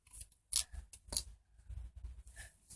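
Small scissors handled and snipped indoors among a child's school supplies, giving a few quiet, sharp clicks separated by soft rustling.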